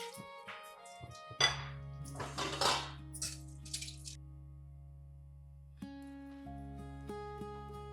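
Dishes and pots being washed in a home kitchen: a burst of clattering metal and ceramic clinks with running water, over a steady tonal background of music, fading to quieter hum with occasional small clinks.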